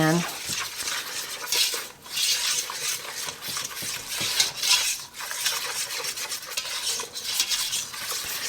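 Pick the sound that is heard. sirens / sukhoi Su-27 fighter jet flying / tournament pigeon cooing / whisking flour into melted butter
whisking flour into melted butter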